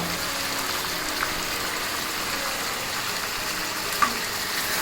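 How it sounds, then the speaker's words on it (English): Tomatoes frying in a hot pan over a medium-high flame while cooking mutton kasha with ginger garlic paste, giving a steady close sizzle with one brief clink. "We'll add the tomatoes now."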